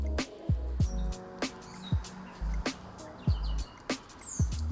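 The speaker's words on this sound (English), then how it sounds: "you hear this? Birds. So I know it's a lot of birds up in that bamboo." Birds chirping up in a stand of bamboo during an outdoor walk, brief scattered tweets and calls high overhead, moderately distant, with low rumbling footstep-like thumps recurring underneath.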